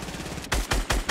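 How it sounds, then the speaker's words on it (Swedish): Rapid gunfire in Fortnite, a few loud, close bursts of shots cracking in quick succession after a stretch of quieter game background. "Ja, mycket skott"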